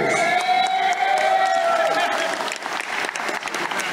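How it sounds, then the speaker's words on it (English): Crowd at a fight event applauding both fighters after a technical-knockout finish, with loud sustained clapping, cheers and whoops filling the room while an announcer keeps talking over it. "a round of applause for both these epic warriors"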